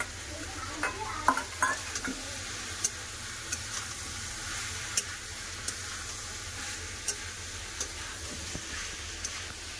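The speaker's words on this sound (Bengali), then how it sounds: "মশলার সাথে আবার সবজি খুব ভালো করে কষে নেব। দিয়ে দেবো ভেজে রাখা মাছের মাথা" Mixed vegetables and fried fish heads sizzle with ground coriander and chilli powder in a pan, a steady frying hiss broken by scattered scrapes and clicks as the mix is stirred, with no voices.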